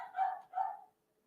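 A dog indoors gives two quick, close barks in succession, followed by quiet.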